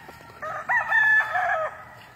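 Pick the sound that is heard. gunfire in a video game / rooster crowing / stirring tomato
rooster crowing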